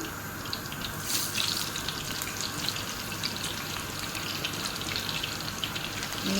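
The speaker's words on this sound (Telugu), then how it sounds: "ఇప్పుడు ఉల్లగడ్డల్ని ఫ్రై చేసుకోవాలి." Sliced potatoes being fried in a pan of oil for maqluba rice make a dense, continuous crackling sizzle, steady and close, with no voices.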